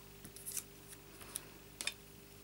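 Small paper snips cut paper in three or four quick, crisp, close snips spaced about half a second apart, with a quiet steady hum underneath.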